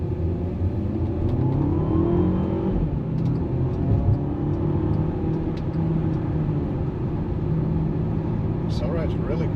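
A 2012 VW Eos, suffering a misfire from a failed PCV, fouled plugs and oil in the intercooler, accelerates with a steady loud engine rumble and rising drone heard from inside the car throughout.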